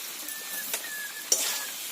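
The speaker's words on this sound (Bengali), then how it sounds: "এবার খুঁটি দিয়ে নেড়ে ধরে একসঙ্গে মিশিয়ে নিচ্ছি" A bottle gourd and fish curry being stirred with a spatula, with a few soft scrapes and one sharper knock against the pan over a faint simmer, close by and quiet.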